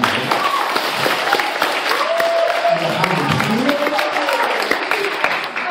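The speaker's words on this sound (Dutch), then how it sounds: "En ik wil eigenlijk voor Ruud en voor de kinderen een fantastisch applaus geven." Audience applause at a children's Christmas musical fills the hall with dense, even clapping, moderately loud, while faint voices and a few shouts rise briefly over it.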